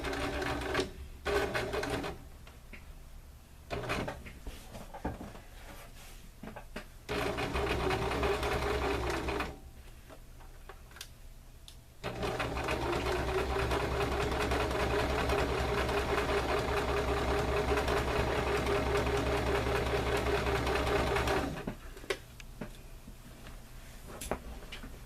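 A sewing machine stitches a tote bag seam in several runs, with short stop-and-start bursts early on, then a long continuous stretch followed by more brief stitches as it back stitches.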